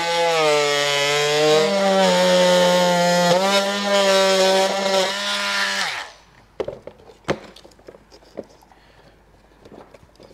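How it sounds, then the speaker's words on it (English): An oscillating multi-tool cuts through plastic during a base plate install on a 2022 Jeep Wrangler. It buzzes loudly and steadily for about six seconds, then stops, leaving faint clicks and handling noises. "I use a multi-tool that's got an oscillating cutting blade just to kind of get a nice straight line"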